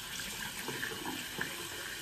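Tap water running to wet a shaving brush, a soft, steady stream splashing faintly with small spatters, close by and alone.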